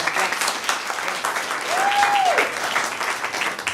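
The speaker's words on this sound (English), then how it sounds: "Oh, yes, yes, golf clap." An improv class show audience claps steadily throughout, a continuous wash of moderate applause with a brief rising and falling whistle-like tone partway through.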